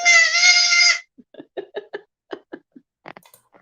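Baby Nigerian dwarf goats on a farm bleat: one long, loud, high wavering cry, followed by a scatter of short, quieter bleats and rustling nearby.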